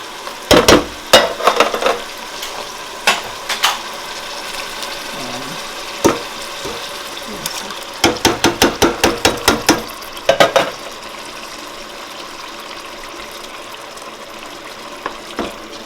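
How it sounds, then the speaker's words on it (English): Beef mince and tomato fry in a pan with a steady soft sizzle, broken by bursts of scraping and stirring clatter that come and go, with no voices. "I'm going to leave that tomato to fry"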